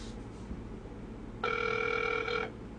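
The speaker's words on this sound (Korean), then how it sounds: "자 다시 한번 전화해 보겠습니다" Outgoing phone call ringback tone, a single steady electronic ring lasting about a second, heard over low background hum with no talk.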